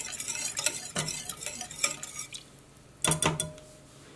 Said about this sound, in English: you have to whisk it so you don't have a bunch, to make it smooth